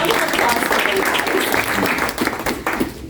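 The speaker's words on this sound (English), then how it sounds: "So round of applause for you guys." Applause from an audience at a business event, a dense steady wash of many hands clapping that holds strong and then thins and fades toward the end, with no talk over it.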